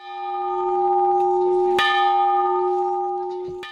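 A church bell rings from a newly built bell tower at a church consecration in the village of Kustyn. Loud, clear strikes land about every two seconds, each leaving a long, humming ring that fills the gaps.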